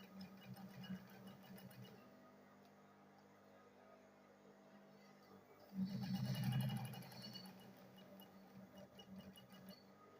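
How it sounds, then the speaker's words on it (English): Sewing machine stitching fabric for a school bag, a steady close whir with a louder burst of fast stitching midway, then running on quietly. "Then I'll sew it again"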